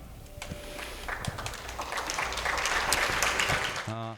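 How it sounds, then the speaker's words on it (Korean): An audience at a community education forum claps to welcome guests, a modest round of applause that swells gradually, then stops abruptly as a brief tone sounds at the end. "박수로 환영해 주시기 바랍니다."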